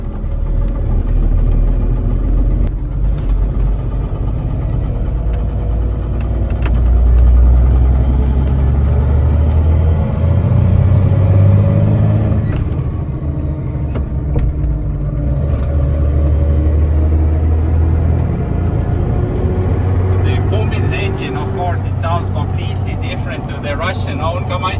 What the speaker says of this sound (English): Russian-owned KamAZ engine, and you can already feel that the truck is jumping around a bit